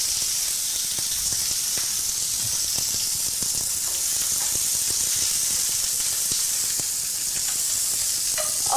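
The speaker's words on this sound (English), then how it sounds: "Got some asparagus in the back. Let that get seared." Blanched asparagus sears in a hot pan, giving a steady, close sizzle with a constant bright hiss and scattered small pops and crackles throughout.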